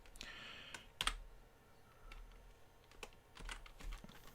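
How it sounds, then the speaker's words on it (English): A computer keyboard is typed on up close and quietly, with irregular bursts of key clicks and a few sharper shortcut presses standing out between softer taps. "you're not hearing my keyboard shortcuts clicking so much"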